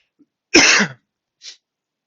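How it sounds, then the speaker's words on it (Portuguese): A single sharp, close cough from a person with rhinitis, followed a moment later by a short faint breathy sound. "Eu tô um pouco com tosse."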